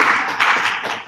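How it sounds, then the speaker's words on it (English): An audience at a Drupal Pattern Lab conference talk claps for about a second, a short, loud burst of applause with no one speaking. "You can clap if you want."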